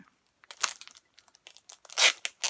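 Someone rips open a taped package of books by hand, a series of sharp tearing and crinkling bursts of paper and tape, close and loud, with brief pauses between pulls.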